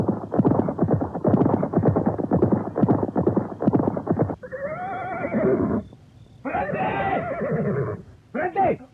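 Two horses arrive at the gate of Jenggala palace, one carrying a covered body across its back, with rhythmic hoof clops followed by loud neighs and whinnies, close and clear.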